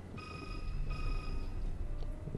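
A phone rings in Resident Evil 6, with a trilling electronic ring in two or three bursts over a low rumbling background.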